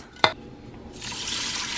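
Water is poured into an Instant Pot holding two cups of rice, a sharp knock followed by a steady rising splash and hiss of liquid filling the pot.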